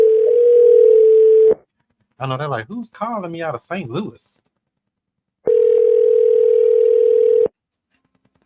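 Outgoing telephone call ringback tone: two long steady rings separated by a pause in which someone talks, each ring loud and close as heard through the phone line.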